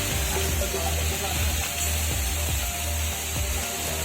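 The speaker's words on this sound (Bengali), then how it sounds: "সুপার তেল খাসির তেল গরম হচ্ছে" Goat fat oil heating in a pan, giving a steady, dense sizzling hiss that runs unbroken throughout with faint mechanical clicking underneath.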